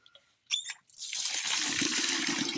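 Water poured from a container over rice in a pot to soak it, a steady close pour lasting about two seconds after a brief clatter of handling, with no talk.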